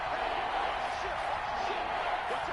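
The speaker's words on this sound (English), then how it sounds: "They're up and making noise." A football stadium crowd roars in a steady, continuous wash of noise during an NFL game between the Panthers and Falcons, loud and unbroken throughout.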